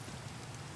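Steady, dense rain patter in Minecraft with a low rumble underneath, continuous and even throughout, no voices.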